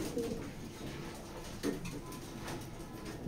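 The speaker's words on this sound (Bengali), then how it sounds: "এগুলা খুবই আসলে অসাধারণ কবুতর, মানে দেখার মতো কবুতর" Pigeons of a good breeding line cooing in a loft, soft low coos rising a few times against a steady hiss of background noise, fairly faint and close.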